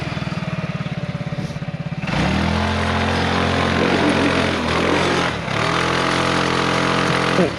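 An ATV engine labors in low gear, a steady loud motor drone with strained revving that holds for several seconds after a rougher idle at the start.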